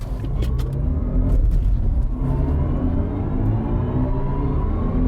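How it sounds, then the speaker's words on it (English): A BMW i4 M50 electric car accelerating hard with its synthetic digital drive sound engaged, a loud steady rising hum and rumble sustained throughout with no talk. "we're also going to use the full digital noise here in just a second"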